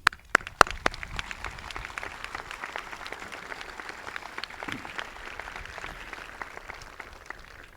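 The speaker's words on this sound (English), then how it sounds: "deserve a round of applause, please." Sustained crowd applause for the faculty at a commencement ceremony, a dense even patter of many hands after a few sharp, louder claps at the very start.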